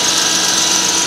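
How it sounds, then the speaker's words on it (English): Under the hood of a 1995 Lexus SC300, the power steering pump gives off a steady, loud, close whine over the idling engine, lasting about a second. "That noise you hear is the power steering pump over here."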